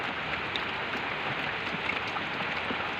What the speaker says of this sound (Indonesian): Alhamdulillah hujan terus nih